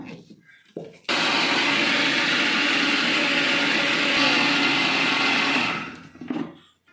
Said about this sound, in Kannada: ಮಿಕ್ಸಿ ಜಾರಿಗೆ ಹಾಕೊಂಡು ಪುಡಿ ಮಾಡ್ಕೊಳ್ಳೋಣ